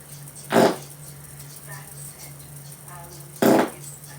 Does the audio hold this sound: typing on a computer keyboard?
no